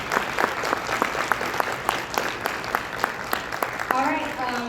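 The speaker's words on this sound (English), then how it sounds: "give them a big round of applause." At a fan festival Q&A panel, a large indoor audience claps steadily in a dense, moderately loud burst of applause that carries on for several seconds, with a few scattered cheers near the end.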